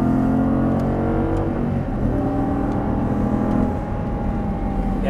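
An Audi R8 engine pulls hard on a race track after an upshift, a loud sustained drone with a steady rising pitch filling the cabin, then easing slightly toward the end.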